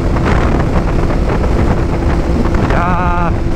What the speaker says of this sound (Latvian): Jā, baigais vējš šodien, nereāli.